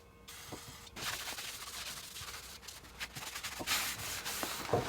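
A rag rubs and wipes dirt off a brake rotor on a Volkswagen Vanagon during a big brake kit install. The scrubbing is soft, with irregular strokes and a few faint knocks, close up with no talking.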